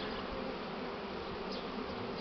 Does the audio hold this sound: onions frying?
no